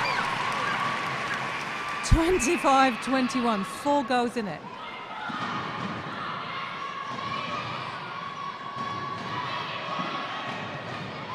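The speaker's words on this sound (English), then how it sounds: "Crowd loving it." Spectators cheer and shout at a Gibraltar versus Republic of Ireland international netball match, a broad crowd roar sustained under a commentator's talk, with a loud whistle-like call rising briefly early on.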